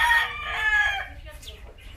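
A chicken crows loudly at close range, then clucks more quietly as the call trails off.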